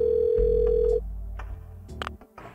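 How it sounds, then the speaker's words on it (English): A motel telephone in Parasite Eve 2 gives a loud, steady tone that cuts off abruptly, followed by a few faint clicks and brief electronic blips. "The motel phone."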